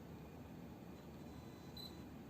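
The autofocus motor of a Yongnuo 42.5mm F1.7 lens on a Micro Four Thirds camera gives a faint, steady mechanical whir, with one brief higher whine near the end.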